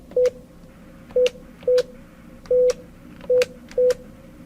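Six short, clean telephone keypad DTMF beeps sound at uneven intervals as an ID number is entered, each tone distinct against a quiet line.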